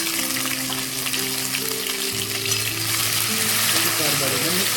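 Curry leaves, green chili, and ginger-garlic paste hit hot oil for a spiced potato curry, giving a steady, loud sizzle and crackle throughout with a brief stirring scrape near the end.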